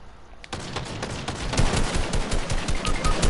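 Rapid automatic gunfire in a video game, starting after a brief quiet moment and continuing as a dense, loud, steady stream of shots close by.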